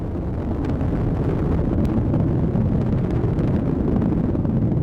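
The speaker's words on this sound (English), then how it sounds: "Booster engine continues to operate as expected." Atlas V 551 rocket booster engine roaring during ascent after launch, a dense, steady, loud low rumble with crackle, heard alone and unbroken.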